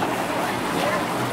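A small boat on the sea off Sorrento near Naples, just about to set off: a dense, rushing wash of wind and water noise, close and steady throughout the short stretch.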